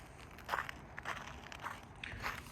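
Footsteps crunching through frozen snow after a storm, four distinct, fairly close crunches in a slow walking rhythm over faint background hiss.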